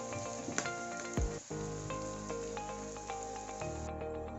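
Curry leaves, shallots and garlic sizzle steadily while tempering in hot oil for a Kerala-style chicken mappas, a close, continuous crackling fry with a few sharp pops and no talking.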